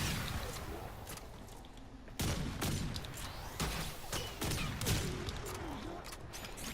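Shotgun pistols fire in Warframe in rapid, heavy bursts of booming shots, loud and dense over a busy game soundscape with occasional speech.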